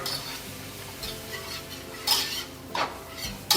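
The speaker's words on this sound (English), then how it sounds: "Then I'm just going to combine the flour and the butter" Flour and butter being combined in a pan for bacon mac and cheese, with soft scraping stirs and a few light utensil clinks against the pan over a faint sizzle, no talk.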